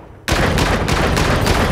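Rapid automatic gunfire from Call of Duty: Infinite Warfare played on PS4 bursts in sharply and keeps going as a loud, dense volley to the end.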